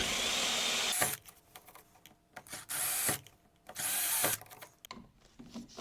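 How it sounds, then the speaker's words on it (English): A power drill whirs in several short bursts while drilling drainage holes in a tilt-and-turn window frame, starting and stopping with quiet gaps between, close up and fairly loud. "drag your drill just to make it an elongated hole"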